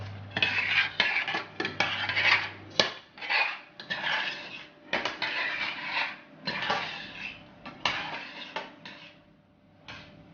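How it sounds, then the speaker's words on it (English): Butter melting over low heat in a pan while being stirred for a triple chocolate brownie, with repeated scraping and clinking strokes in an uneven rhythm, close and moderately loud, without speech. "remember to mix your butter from time to time and keep it on the low heat so it doesn't burn"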